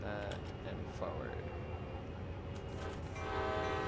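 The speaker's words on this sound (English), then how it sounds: "2 horns for safety on the railroad lines here." A heavy-haul freight locomotive horn in the railroad game Train Sim World: CSX Heavy Haul sounds in two long, loud, sustained blasts over rumbling engine and rail noise.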